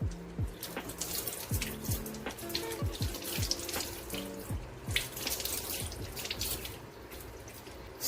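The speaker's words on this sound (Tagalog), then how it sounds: "Lower the forearms and hands and wet with water." Tap water runs into a sink and splashes over hands as they are wetted during handwashing, a soft, continuous stream with irregular splashes and drips, quiet and close, with no talking.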